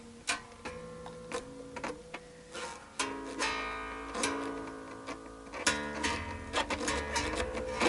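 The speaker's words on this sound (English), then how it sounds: "Sorry about the squeaking noise." Repeated sharp squeaks and ticking clicks while a Squier J Bass is set up with new strings, irregular and close, some carrying brief ringing tones, with no speech over them.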